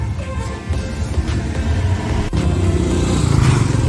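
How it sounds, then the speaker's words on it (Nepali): A motorcycle is being ridden along a hill road in Kanyam: a steady, close engine drone that swells slightly louder toward the end, with no talking. "मेरो फेभरेट बाइक"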